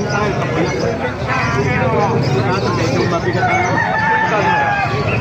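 Roosters crow amid a loud, dense backdrop of clucking fowl and crowd chatter at a market in Calumpit, Bulacan, with people talking throughout.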